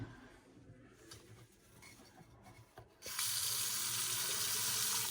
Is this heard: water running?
yes